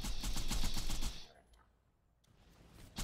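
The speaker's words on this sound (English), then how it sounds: "Fire again!" Rapid automatic gunfire from the game Borderlands 2 rattles in a fast, loud burst for about a second, then drops to near quiet before another shot cuts in at the end.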